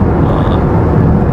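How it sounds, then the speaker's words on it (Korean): Steady wind rush and low road roar fill the cabin of a new Mercedes-Benz S-Class (S 400 d / S 580) cruising at around 110–120 km/h on an expressway near Yongin, a constant, even drone with no voices. "딴 데가 되게 조용하다 보니까 이제 바람 소리가 좀 크게 들리긴 하죠."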